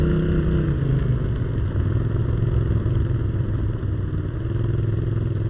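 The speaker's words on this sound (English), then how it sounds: "As you can tell by the engine sound revving and then undoing." A badly damaged vehicle engine in the military game ARMA 3 runs loud and rough, a dense continuous mechanical drone with clattering that rises and falls slightly, with no voices over it.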